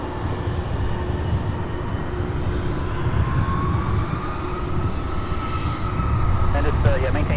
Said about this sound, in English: we're going to see a 747 taxi from the northwest end of the airfield